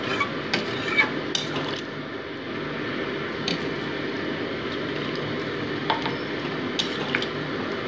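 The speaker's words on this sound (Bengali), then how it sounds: "সোয়াবিন আর আলুটাকে আর মশলাটাকে ভালো করে মিশিয়ে নিচ্ছি" Soybean chunks, potato and spices being stirred with added water in a pan, giving soft scraping and squishing sounds with a few light clinks of a utensil, steady and close with no talk.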